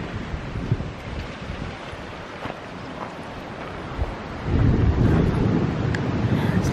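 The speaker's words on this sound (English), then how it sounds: "The waves coming over these rocks" Sea waves wash over coastal rocks at Tintagel in Cornwall, a heavy rushing surge that swells louder near the end over steady wind buffeting the microphone.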